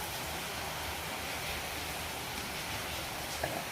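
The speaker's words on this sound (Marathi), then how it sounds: "काय बघा बाहेर पाऊस चाललाय" Heavy rain pours down outside in a continuous broadband wash, even and unbroken, with no voices heard.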